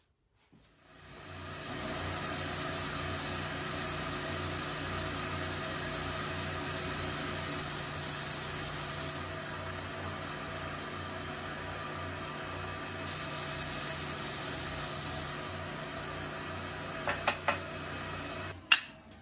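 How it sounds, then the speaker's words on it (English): A belt sander strips the finish off wooden acoustic guitar blocks, a steady broadband hiss and whir running for about seventeen seconds with little change, close by, ending in a few small knocks as it stops. "We'll use the belt sander once again."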